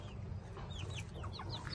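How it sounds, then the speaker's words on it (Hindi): Hens that have just been let out near a rooster cluck in a farmyard, sending out a quick series of short, chirpy calls at moderate distance over a low background hum. "मैंने मुर्गियों को छोड़ दिया हुआ है"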